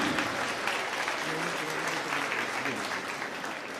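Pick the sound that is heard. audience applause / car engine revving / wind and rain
audience applause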